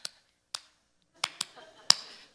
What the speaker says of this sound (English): he'd joyfully clap his hands to the beat of the music